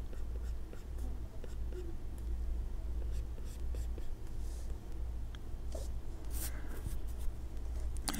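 A stylus on a tablet draws eyebrow-type lines with a large brush in Procreate, giving soft, intermittent scratchy strokes over a low background hum, fairly faint and close.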